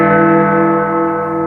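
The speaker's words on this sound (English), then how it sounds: "Finally, everyone could hear the sound of Big Ben across the" Big Ben, the very large bell of about 13.7 tons and 2.7 metres across in London, rings one loud, sustained strike with rich ringing overtones that hang and slowly decay throughout.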